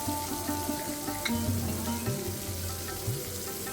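Chopped onion and nigella seeds fry in hot oil with a steady, soft sizzle and a few stirring taps, with faint tonal background music underneath.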